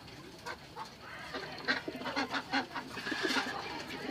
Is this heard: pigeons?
yes